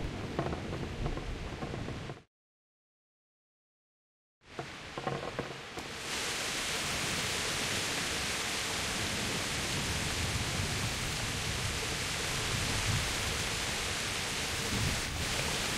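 Heavy rain falls in the medieval role-playing game Kingdom Come: Deliverance as a dense, steady hiss, briefly cut to silence early on before it resumes and continues loud and unbroken to the end.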